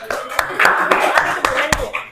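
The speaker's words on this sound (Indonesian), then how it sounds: "Oke, tepuk tangan untuk Adinda." Scattered claps from a small classroom group, uneven and brief, mixed with voices and a bit of chatter.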